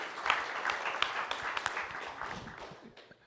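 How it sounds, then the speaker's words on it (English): A modest conference audience gives a round of applause in a meeting room, moderately close clapping with audible individual hand claps, fading out gradually over about three seconds. "a round of applause for group 2 again."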